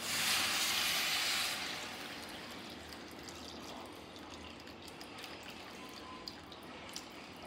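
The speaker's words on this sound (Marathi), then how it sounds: "आता याच्यात मी जे आंगड्यांचा मिक्सरला लावून रस काढला होता पाणी, ते पाणी घालते" Extracted juice water poured into a crab dish, a bright splashing pour at the start that softens into gentle trickling and a few drips.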